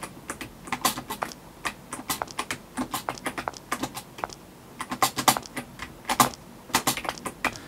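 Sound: loud computer keyboard typing

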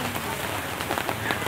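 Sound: rain falling at a traditional village market

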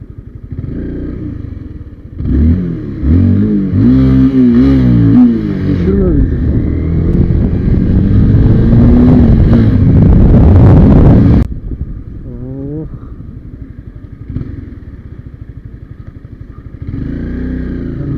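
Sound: Honda CBR250RR motorcycle engine and exhaust

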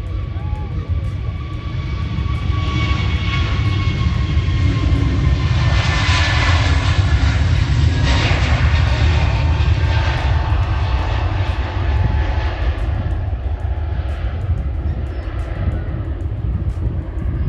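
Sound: airplanes taking off at Manchester airport

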